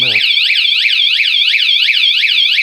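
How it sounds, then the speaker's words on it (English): A Wired Freedom 2024 bike's electronic alarm wails loudly in rapid repeating up-and-down sweeps, continuous and close, after a brief blip at the start. "if you hit the alarm, it's going off."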